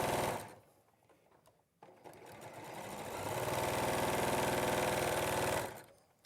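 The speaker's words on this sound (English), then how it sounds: "And then I'll sew another two squares, and then it completes the rows." A sewing machine stitches quilt squares together in a steady, fast run that builds and holds loud for several seconds, then stops, with short quieter stitching bursts before it.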